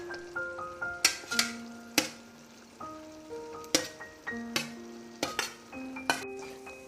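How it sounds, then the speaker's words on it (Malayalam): Fried chicken pieces are stirred into a pan of Chicken Manchurian gravy, with repeated sharp clacks of a spoon against the pan over a soft sizzle, and a sustained background tone running throughout. "ഇനി നമുക്ക് നമ്മൾ ഫ്രൈ ചെയ്ത് വെച്ചിരിക്കുന്ന ഈ ചിക്കൻ ഇതിലേക്ക് ആഡ് ചെയ്ത് കൊടുക്കാം"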